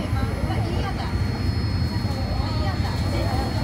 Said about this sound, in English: Massive plane A380 pulling in.